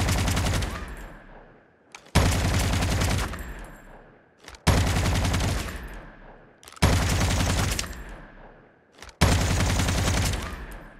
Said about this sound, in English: But now when you starts firing, your gun will starts firing without waiting for scope animation.